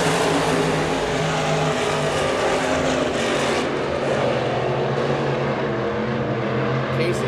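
Loud, continuous roar of several stock cars racing on a dirt track at Park Jefferson Speedway, a steady thick rumble with rising and falling revs that fills the whole clip.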